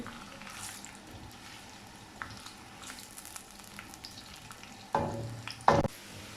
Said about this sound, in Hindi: प्याज को गोल्डन होने तक फ्राई करेंगे।